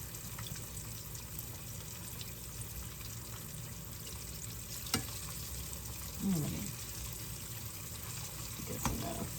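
Chicken sizzling in a frying pan for crispy chicken wraps, a steady, fairly quiet crackle with a few brief clinks and stirring knocks.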